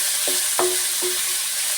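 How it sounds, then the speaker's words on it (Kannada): Four onions fry in a pan with a constant hissing sizzle, broken by three short stirring scrapes close by. "ಈಗ ಈ 4 ಈರುಳ್ಳಿನ ನಾನು ಸ್ವಲ್ಪ ಫ್ರೈ ಮಾಡ್ಕೊತಾಯಿದ್ದೀನಿ."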